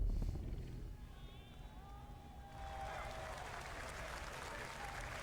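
Crowd cheering and applause from a live audience at the Summer Game Fest gaming showcase, a steady wash of clapping and cheers that swells partway through, heard at a distance under faint talk and music.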